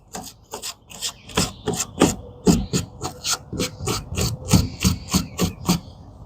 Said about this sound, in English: really just mushing that fat out of there, scraping it out, kind of get your quills clean.